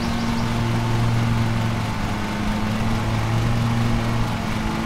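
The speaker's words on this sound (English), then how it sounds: "Simulator, yeah. It's called Lawnmower Simulator." Steady, loud droning hum of a lawn mower engine in the video game Lawnmower Simulator, running continuously with a constant low tone and no voices.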